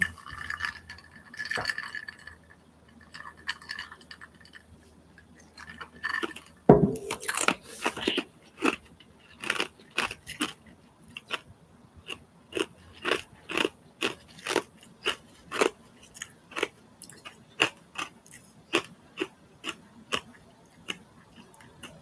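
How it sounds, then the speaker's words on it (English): Ice being crunched between the teeth, close and fairly loud: a run of sharp, crackling bites and chews repeating in a steady rhythm, with no talking. "I love crunching on ice."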